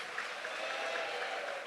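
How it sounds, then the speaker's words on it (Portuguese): A church congregation applauds for Jesus, a soft, even wash of many hands clapping at a distance with no distinct individual claps. "Pode aplaudir a Jesus"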